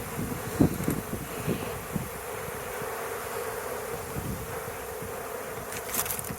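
Honeybees fan and buzz around a crowded hive box, a soft continuous drone with a few louder buzzes of bees passing close to the microphone.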